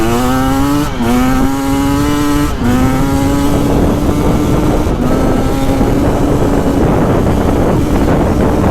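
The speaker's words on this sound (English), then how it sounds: "Boy, is it windy today." Strong wind buffets the microphone during a ride on a 2025 KTM 300XCW Champion Edition dirt bike, a loud continuous roar mixed with the two-stroke engine's steady droning whine near the mic.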